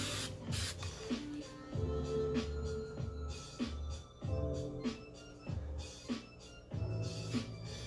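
Hairspray sprayed onto a wig while it is styled, heard as a series of repeated hissing aerosol bursts, each about half a second long, close and fairly quiet, with short pauses between them.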